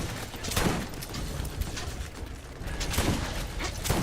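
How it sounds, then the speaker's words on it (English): Shotgun blasts from the video game Borderlands, a few loud close shots spaced irregularly over a few seconds, each with a sharp broadband burst and mechanical clatter. "It's an interesting shotgun."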